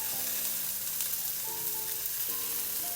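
Sliced onions hitting half-cooked potatoes in a frying pan for a Spanish omelette, a steady sizzle running throughout while being stirred, close and even, with faint tonal background music.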